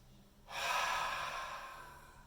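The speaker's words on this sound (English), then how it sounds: "Deep breath in, big belly. Breathe out, small belly. Breathe in." A single long, deep breath begins after a short pause, a full airy inhale or exhale that swells quickly and then slowly fades.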